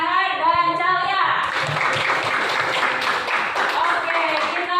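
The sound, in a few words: classroom applause for students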